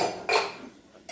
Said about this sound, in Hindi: तो सारे बर्तन सूख गए हैं, सबको जचा दूंगी।